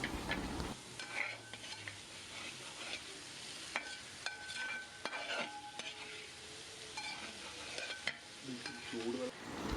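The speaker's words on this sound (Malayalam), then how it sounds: "തക്കാളിയും പച്ചമുളകും ചേർത്ത് കൊടുത്ത് ഒരു 3 മിനിറ്റ് ഒരു മീഡിയം ഫ്ലെയിമിലിട്ട് നമുക്കൊന്ന്" Green chillies and tomatoes sauté in a pan over a medium flame for chicken pulao, giving a steady soft sizzle with intermittent scraping stirs and light utensil clinks throughout, with no talking.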